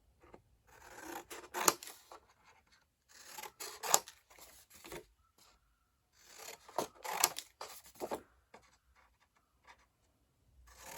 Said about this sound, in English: Get a long pair of scissors and you can just start whacking away.